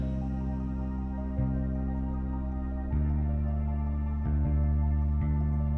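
Bridge section of a K-pop beat, with sustained organ chords over long, deep bass notes that change pitch every second or so, dense and steady, no drums or voices.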